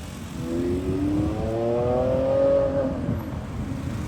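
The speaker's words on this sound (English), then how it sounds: "Lamborghini Aventador, baby" A Lamborghini Aventador SVJ supercar revs its engine in a rising, whining sweep that climbs for a few seconds and then drops off. It is fairly loud and sounds like it is passing at moderate distance, with no speech.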